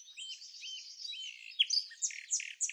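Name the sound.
blue-gray gnatcatcher calling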